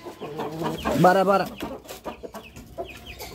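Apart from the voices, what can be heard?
Aseel fighting rooster clucking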